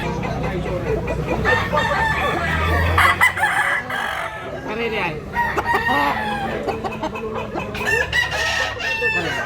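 Roosters crow repeatedly and fowl cluck in a fighting-cock market in Tabunok, Talisay, Cebu, several loud, close crows rising and falling over a busy background of crowd chatter and other birds.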